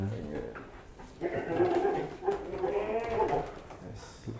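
Jumbo sacrificial goats and sheep at a livestock farm in Nganjuk, Indonesia, bleat in several drawn-out calls close by, with voices talking in the background.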